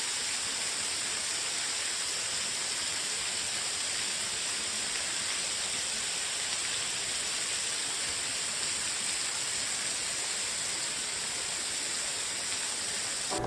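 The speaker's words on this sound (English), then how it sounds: "we have this amazing 50-foot tall waterfall." A 50-foot tall waterfall on a wooded property pours in a constant broad rushing hiss, steady and even from start to finish with no voices.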